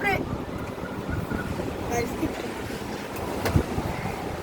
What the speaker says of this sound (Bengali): এখানে আমাদের বাতাসে কিছু দেখা যাচ্ছে না মানে বাতাসে আবার বৃষ্টিও চলে আসছে